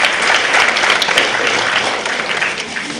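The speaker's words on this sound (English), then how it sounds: "A big round of applause to Didi Sudesh," An audience at a spiritual morning class gives sustained, fairly loud applause, steady throughout with a slight fade toward the end.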